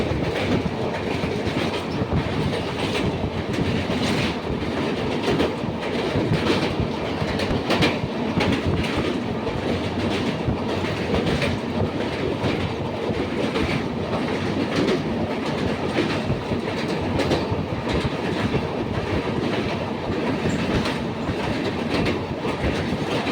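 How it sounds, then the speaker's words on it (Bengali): Falaknuma Express rumbling along the rails between Secunderabad and Howrah, a steady loud roar with rapid clickety-clack of wheels over track joints, heard from on board for over twenty seconds without talk. "আমাদের ট্রেন নির্দিষ্ট সময় থেকে ওই 1 ঘন্টা 30 মিনিট দেরিতে চলছে"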